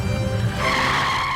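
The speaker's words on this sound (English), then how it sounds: "let's get in the car and drive away" Cartoon car tires skidding loudly with a squealing, screeching slide, steady and close throughout, with no voices.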